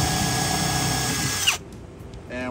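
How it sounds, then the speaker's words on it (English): Power drill pre-drilling holes into aluminum feet for a small boat's fiberglass rear deck, a loud steady whine for about a second and a half that stops abruptly, followed by a short quieter mechanical sound. "we're pre-drilling these holes here"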